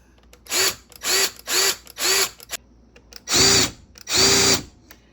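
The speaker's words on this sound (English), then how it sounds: "I'm just gonna drill this other screw in." Power drill driving a screw into an IKEA cupboard, four short whirring bursts followed by two longer, heavier runs, close and loud, with no talking.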